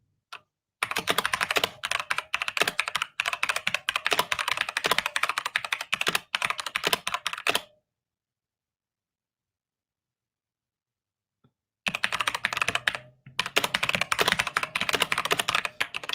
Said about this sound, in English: I love the mess out of how this keyboard sounds